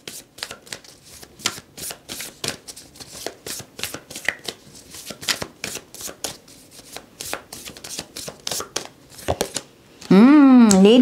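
Tarot cards being shuffled by hand: a long run of quick, crisp riffling bursts close by in an uneven rhythm, followed at the end by music.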